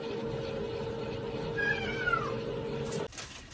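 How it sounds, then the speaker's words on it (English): A stray cat meows on a doorstep outdoors, a few drawn-out rising and falling cries over a steady background hum, close and clear, ending abruptly. "been meowing on our doorstep for so long"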